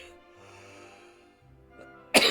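A character in Dragon Quest VII Reimagined coughs once, a short, sharp burst at the very end that follows a stretch of soft, sustained game music.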